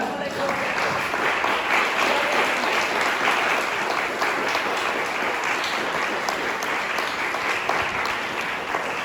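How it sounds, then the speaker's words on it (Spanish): A church congregation at a Spanish-language service applauds, producing dense, steady, loud clapping that fills the whole stretch without a break. "¿Cuánto le damos un aplauso al Señor por eso?"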